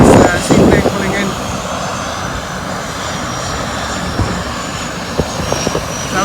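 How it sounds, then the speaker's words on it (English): A propeller seaplane arriving at a Maldives island resort, its engine a steady distant drone lasting throughout, with a person talking over it and a few brief knocks. "a seaplane has just arrived"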